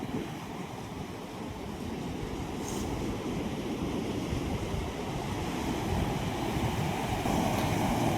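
A broad, continuous roar of the rain-flooded Kaveri River rushing near a bridge, swelling slightly over time, mixed with wind buffeting the microphone; no talking.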